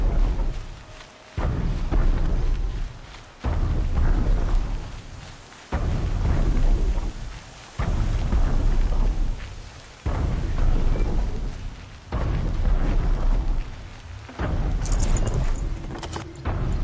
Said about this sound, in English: Rain. Ah well, I'm mostly waterproof.